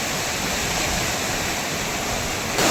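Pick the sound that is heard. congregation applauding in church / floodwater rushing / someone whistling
floodwater rushing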